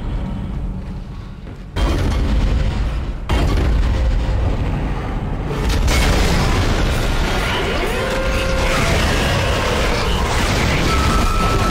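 A weapon fires in Dead Space, loud booming blasts that jump in suddenly and leave a dense, roaring, sustained rumble that fills the rest of the stretch.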